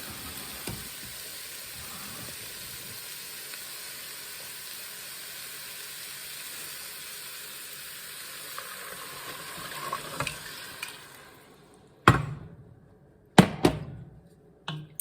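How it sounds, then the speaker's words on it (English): Steady sizzle as broth hits a hot pan of softened lamb stew meat, hissing evenly for a while, then quieting, followed by a few sharp knocks of a utensil against the pan. "Then I'm going to add my broth."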